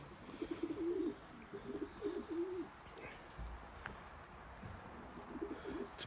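Pigeons, including a light check hen, coo in repeated low rolling phrases close by, with several bursts in the first half and another near the end, plus small shuffling noises between.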